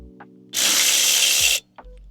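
A ratchet turns a 13mm bolt on an 11th-generation 2025 Honda Civic Si: one close, quiet burst of rapid clicking lasting about a second, set between near silence.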